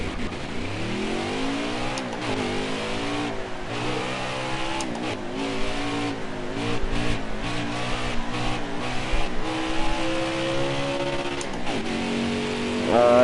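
A race truck engine in NASCAR Heat 4 revs and climbs through gears on a speedway during qualifying, a loud continuous whine with repeated rising sweeps and shifts, no talking.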